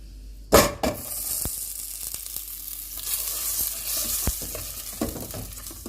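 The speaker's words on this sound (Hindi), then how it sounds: "सॉस तैयार करने के लिए हम सबसे पहले बटर लेंगे।" Butter melting and sizzling in a pan for a white sauce, a steady soft hiss close by, broken by a few sharp clacks of a utensil striking the pan.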